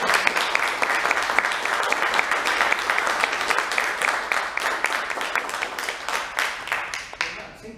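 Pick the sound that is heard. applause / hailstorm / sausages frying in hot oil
applause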